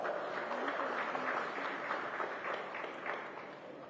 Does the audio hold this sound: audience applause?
yes